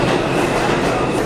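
New York subway Line 1 train rolling along with a steady, loud rumble and rattling wheel noise heard from inside the car, with no pauses.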